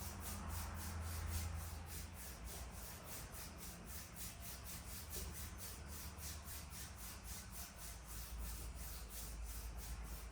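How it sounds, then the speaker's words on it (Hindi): Hands rubbed briskly together during a healing and energy exercise, a continuous close rasping friction with fast, even strokes, steady and alone without talk. "एक बार फिर अपने हाथों को इस तरीके से आपस में रब करें।"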